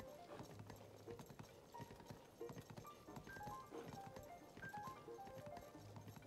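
A galloping horse in The Legend of Zelda: Tears of the Kingdom beats out continuous quick hoof clops, faint and even, over soft game music with melodic notes.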